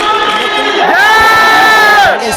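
A crowd at a Hindi patriotic poetry recital roars with loud cheering and drawn-out shouts, close and intense for a couple of seconds.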